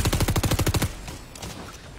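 SMG fire in Fortnite, a rapid loud burst of about eight evenly spaced shots lasting under a second, followed by quieter game ambience with faint distant pops.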